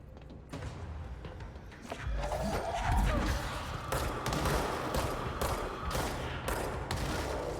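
Explosions in the game Control boom and crash amid rapid bursts of gunfire, a deep blast hitting near the middle and repeated sharp cracks following, loud and dense with faint voice underneath.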